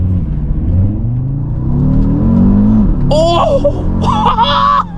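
An Audi RSQ3 accelerates hard, its engine note rising in a loud, close rumble, then shifting as excited voices cut in over the engine in the final seconds.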